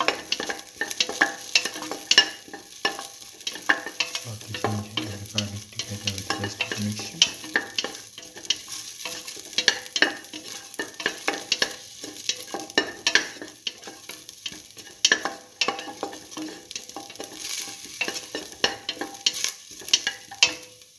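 Ginger and garlic stir-fried together in a pan for a mint okra potato rice dish, with a steady sizzle and repeated scraping and stirring clatter throughout, close and fairly loud, with a low hum partway through.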